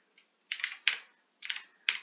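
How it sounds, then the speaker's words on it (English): Computer keyboard typing into form fields in real-estate transaction software, heard alone as a few short bursts of quick, crisp key clicks separated by brief silences. "if I click on any of these fields, I can just start typing"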